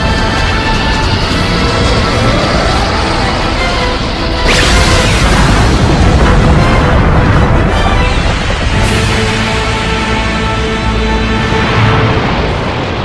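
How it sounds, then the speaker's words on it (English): A huge energy explosion in the Dragon Ball Super anime roars as a dense, loud, continuous blast, with a sudden whooshing surge partway through and rumbling crashes that keep going to the end. "What an explosion!"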